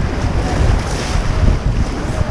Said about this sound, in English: We're coming up on a pretty sticky little hydraulic down here called Full of Water.